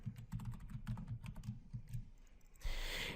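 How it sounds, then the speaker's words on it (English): Quick, light keystrokes on a computer keyboard as a password is typed, a close run of soft taps lasting about two seconds, followed by a brief burst of broadband noise at the end, with no talk. "We type the password again."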